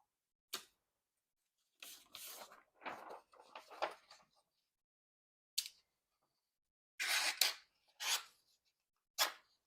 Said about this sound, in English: let's see how the razor blade cuts